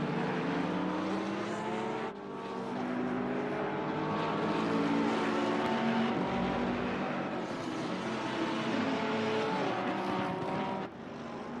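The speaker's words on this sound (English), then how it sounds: "Bentley just drives away from the Ferrari down the main straight" Simulated Bentley and Ferrari GT race cars roar down the main straight at the Nürburgring GP circuit in a racing sim, with steady loud engine drone and rising harmonic whine as the cars accelerate, and no voices over it.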